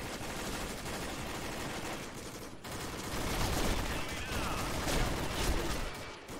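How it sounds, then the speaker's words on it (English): Rapid machine gun fire in the shooter game Combat Arms, a dense, sustained stream of close, loud shots with only a brief break before the firing picks up again even louder. "This machine gun just spews everywhere"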